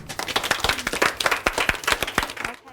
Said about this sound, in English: Do you think we should give them a round of applause?